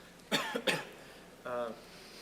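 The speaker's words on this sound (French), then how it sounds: "Attendez, je vais tousser, donc je vais éteindre le micro." Two sharp coughs in quick succession, close and fairly loud, into a microphone at a quantum computing event, followed by a brief voiced sound after a short pause.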